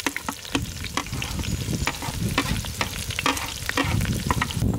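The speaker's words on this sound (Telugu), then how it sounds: "ఉల్లిగడ్డలు 4-5 నిమిషాలు వేగిన తర్వాత" Onions fry in oil with cloves, bay leaf and dried red chillies, sizzling steadily beneath repeated scraping and clattering stirs from a spoon against the pan, with no voices.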